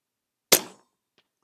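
A Brocock Sonoran .30 air rifle fitted with a Hawke Sidewinder scope fires a single sharp, loud crack at a 100-yard target. The report decays quickly into silence, and a faint distant tap follows about half a second later.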